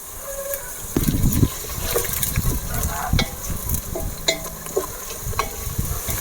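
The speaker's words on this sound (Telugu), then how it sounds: "పచ్చిమిర్చి వేస్తున్నా కరివేపాకు కొద్దిగా వేస్తున్నా" Green chilies and curry leaves sizzle in hot oil for crab pulao, a continuous close frying hiss broken by stirring clatters and scrapes against the pan.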